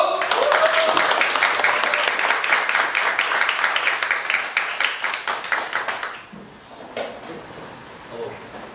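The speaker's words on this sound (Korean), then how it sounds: "자, 박수!" Youth worship audience claps loudly and densely for a few seconds on cue, then the applause thins out and fades, leaving a quieter room with a few stray claps.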